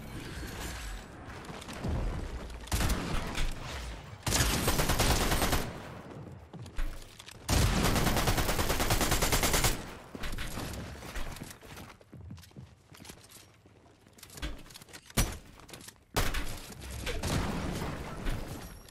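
Shotgun blasts in a ranked shooter match, several loud sharp bursts separated by quieter gaps, with clattering steps and handling noises between shots.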